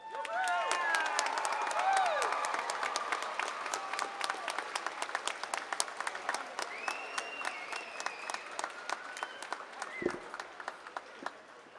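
Audience at an afternoon university commencement ceremony gives graduates a long, dense round of clapping with some cheers and whoops, loud at first and gradually thinning over about twelve seconds.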